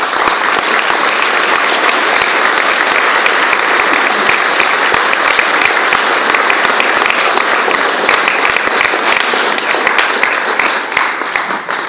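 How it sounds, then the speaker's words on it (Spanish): Audience at an evening commemorative event marking fifteen years of the H.I.J.O.S. group breaks into sustained, dense applause, loud and even throughout with faint crowd murmur underneath. "un aplauso para ellos"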